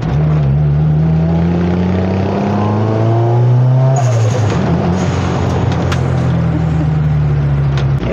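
A turbocharged Honda Civic Estilo engine revs up and drops through gear shifts below 5000 RPM, the pitch climbing and falling repeatedly, loud and close from inside the car.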